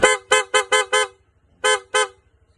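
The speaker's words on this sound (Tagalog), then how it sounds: "Testing natin ang busina." A PIAA horn fitted to a Honda Click scooter blares in short, loud bursts: five quick honks in a row, a pause, then two more, with a low engine idle running beneath.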